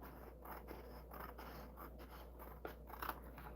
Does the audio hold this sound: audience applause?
no